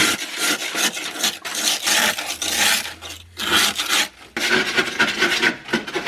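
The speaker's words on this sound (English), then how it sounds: "all I do is scrape the ice onto the pan and then dump the ice" A scraper rasping across built-up ice and pushing it onto a pan, heard as repeated close, gritty scraping strokes with short pauses between them.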